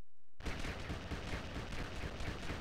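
Rapid gunfire from the Lego Batman video game, played in an emulator, bursts in after a brief silence and becomes a dense, continuous volley of shots.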